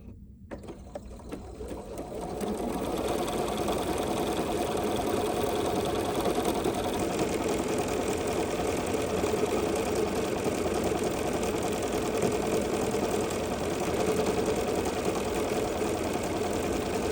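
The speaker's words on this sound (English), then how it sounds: "this stitch comes out looking really cute when we stitch it out in triple form" A sewing machine runs steadily stitching a triple stitch for a circular zippy bag, a fast even mechanical whir that starts up after a couple of seconds and holds at a constant close, loud level with no talk.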